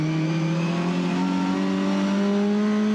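A race car engine at the Lédenon circuit holds a loud, steady drone with rising harmonic tones as it accelerates, close and continuous for the whole stretch with no talk over it.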